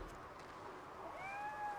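A cat meows once in the video game RoboCop: Rogue City, a rising tonal call near and clear over a low, steady game ambience.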